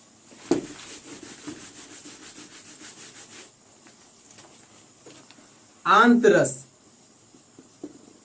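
A board is rubbed clean of writing with a quick run of rhythmic scrubbing strokes up close, followed later by someone speaking.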